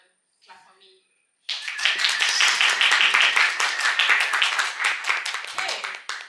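Audience clapping breaks out at a hackathon opening session, a loud, dense burst of many hands that swells quickly and holds steady for several seconds before starting to thin.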